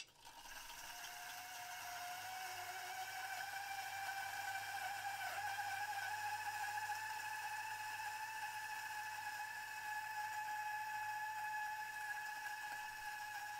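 Coffee grinder running at its lowest speed from a cold start, milling light roast beans set just off chirp near burr touch, with a steady whirring motor hum and faint grinding texture throughout, no talking.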